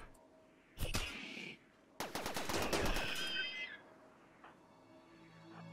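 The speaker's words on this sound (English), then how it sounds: "Okay, so EMP launcher takes a while to shoot." An EMP launcher fires in the RimWorld video game, with one burst near 1 second and a longer, louder blast run from 2 to 3.5 seconds, then fading crackle, with no talk.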